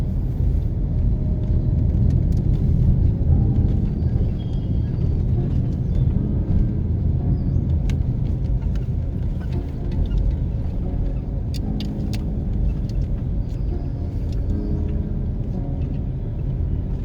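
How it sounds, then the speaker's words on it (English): A car drives slowly through a housing scheme in Clarendon, Jamaica, giving a steady low rumble of engine and road noise with faint scattered clicks and ticks over it, moderately loud and continuous, no talking. "So stay with me while we do a little drive around."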